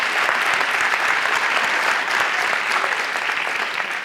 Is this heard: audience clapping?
yes